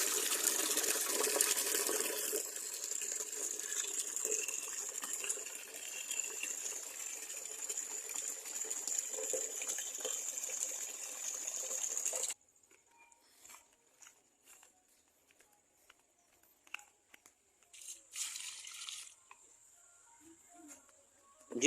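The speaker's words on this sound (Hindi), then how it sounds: "तो इस तरीके से जो है हम सारे गेंदे के पौधों में इस समय पानी डाल रहे हैं।" Water pours steadily from a pipe onto marigold plants for about twelve seconds, a broad continuous splashing hiss, then stops, leaving a quiet yard with occasional faint knocks and brief trickles.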